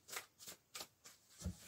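Tarot-style cards shuffled in the hands ahead of a three-card draw, giving five soft riffling bursts at a steady rhythm, close and fairly quiet, with no talking.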